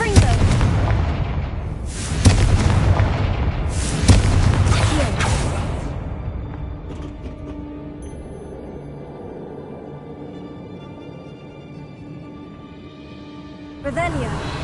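Confringo spell blasts go off in the video game Hogwarts Legacy: three heavy booming explosions about two seconds apart, each with a rumbling tail, then a quieter lull of game ambience before a fourth blast at the end.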